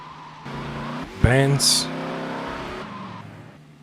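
A car engine in Grand Theft Auto: Vice City Stories revs and tires squeal briefly while a person talks over it.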